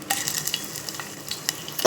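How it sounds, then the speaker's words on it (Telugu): Ginger and garlic frying in hot oil with tempering spices for a South Indian tomato rasam, a steady close sizzle broken by stirring scrapes and a few sharper crackles, with no talk. "అల్లం వెల్లుల్లి యాడ్ చేసుకున్నాను"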